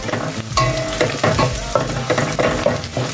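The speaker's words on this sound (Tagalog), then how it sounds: "Sangkotsan mo lang na maganda. Pa-brownan mo lalo na yung bawang" Garlic and chili sauté in a hot pan, giving a steady sizzle and frying crackle with repeated scrapes of stirring, loud and close.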